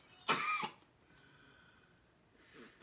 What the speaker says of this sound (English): she just points it right at me and coughs